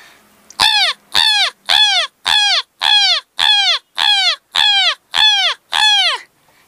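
Someone mimics a village crow with ten evenly spaced, loud, close caws in a steady rhythm, each call short and harsh.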